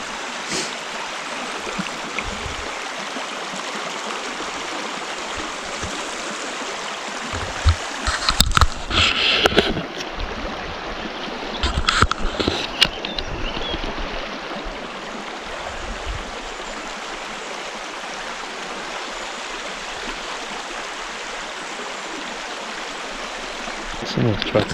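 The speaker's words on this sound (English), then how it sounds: "Next to river." A river flows steadily beside a riverside campsite with a fire pit, a continuous broadband rush running the whole way through, with a few brief louder knocks or splashes in the middle.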